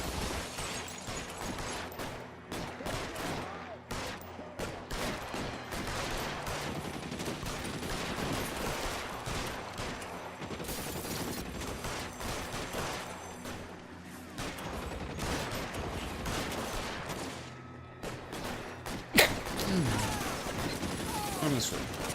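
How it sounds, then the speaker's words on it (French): Dense gunfire shootout in the video game L.A. Noire, with bursts of rapid shots and crashes packed together over twenty seconds, game sound at moderate level with a sharp loud crack near the end. "Trop tard ou pile à l'heure pour la fusillade."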